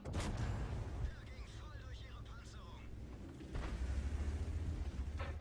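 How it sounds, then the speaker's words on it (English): High explosive tank cannon shots boom amid a rumbling engine drone in World of Tanks, heard under steady commentary. "And he's going to fire nothing but high explosive at Guard."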